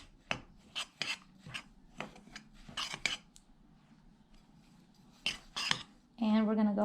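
Powdered milk, baking powder and salt being mixed in a bowl, with a series of short scraping and clinking strokes of a utensil, close and moderately quiet, ending in a louder sustained rub.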